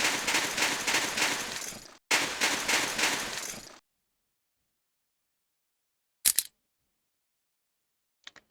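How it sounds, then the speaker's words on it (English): Uzi submachine gun bursts in Soldier of Fortune II, two sustained rapid automatic volleys with a brief gap between them, then silence and a couple of sharp isolated clicks or shots, no talk. "So the Uzi now fires a little bit faster than it did in the original game."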